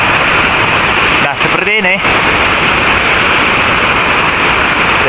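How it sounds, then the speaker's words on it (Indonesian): Large waterfall at Curug Cisaladah in Pakenjen roars steadily and loudly throughout, a dense broadband rush with no pause, while someone speaks briefly over it near the start. "Jadi air terjun ini lumayan besar ya kalau kita semperin ke bawah ya."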